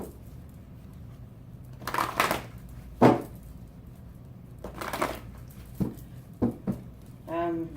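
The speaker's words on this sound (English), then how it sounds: "I'm just led to shuffle it one more time." Tarot cards are shuffled in several short riffling bursts separated by pauses, close and fairly crisp, over a quiet room background.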